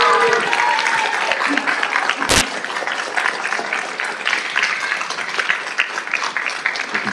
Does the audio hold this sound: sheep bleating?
no